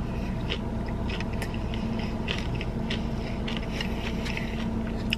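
Crunchy food is chewed close to the mouth during a Panda Express meal, with repeated crisp bites and crackles over a steady low background hum.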